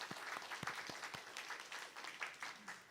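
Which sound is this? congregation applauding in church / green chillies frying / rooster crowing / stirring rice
congregation applauding in church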